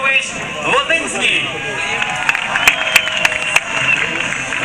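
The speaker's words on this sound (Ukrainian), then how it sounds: "Ваші оплески" A crowd applauds at the opening ceremony of a friendly football match in Ochakiv, Ukraine, a continuous patter of clapping with a few sharp claps standing out and voices mixed in.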